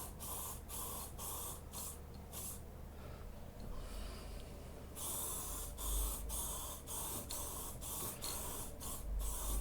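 PlastiKote woodstove spray paint hisses from a can onto a fire pit in repeated short bursts, with a longer pause midway before the rhythmic bursts resume.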